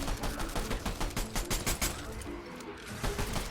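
A shotgun fires in rapid repeated blasts during a Fortnite match, loud and close, forming a steady rhythmic burst of gunfire with a short lull near the end.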